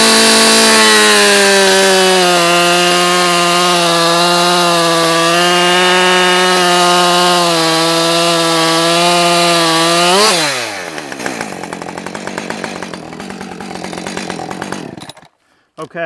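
A ported 30cc chainsaw with a long bar runs at a loud, steady high-pitched whine while cutting firewood, then its pitch drops and it settles to a rough idle before cutting off.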